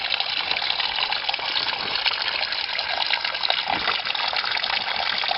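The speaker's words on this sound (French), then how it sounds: "à force que l'eau tombe dessus" Water falling steadily onto a stone beside a roadside cross, a continuous splashing gush that stays loud and even throughout with no voices.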